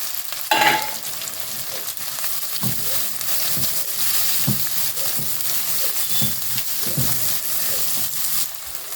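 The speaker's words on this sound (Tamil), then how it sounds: "பச்சை மிளகாய் போட்டு வதங்கட்டும்" Green chillies sizzle gently in a hot pan, soft crackling throughout with periodic scraping and stirring knocks against the pan.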